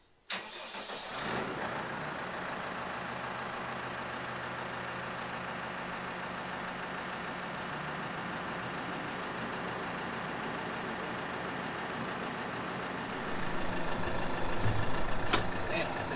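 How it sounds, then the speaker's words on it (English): A tractor fitted with a Trima front loader starts up, its engine catching after a brief crank and settling into a steady mid-pitched idle up close, rising slightly toward the end. "let's fire up and take it for a spin and see if it works"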